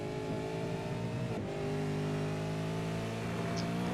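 A V8 race car drives on the Sonoma circuit, its engine holding a steady tonal drone with a brief dip in pitch as it exits a corner, heard at a distance with no talk.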